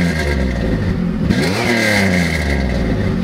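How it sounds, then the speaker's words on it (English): Factory exhaust on a sports car revs hard and close, with a rising, throaty engine note that climbs and falls in a few quick blips and no talking. "This is the factory exhaust on it."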